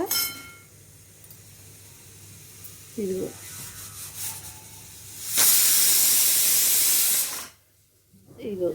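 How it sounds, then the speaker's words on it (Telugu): Fenugreek and mustard seeds fry in hot oil, a soft background sizzle that swells into a loud, close hiss for about two seconds, with a few clinks in between. "ఇదిగోండి మెంతులు ఆవాలు వేగిన తర్వాత"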